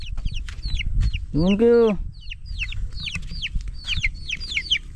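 Chicks cheep in rapid high peeps throughout while a hen gives a brief loud cluck in the middle, close by at a farm hut, with someone speaking briefly.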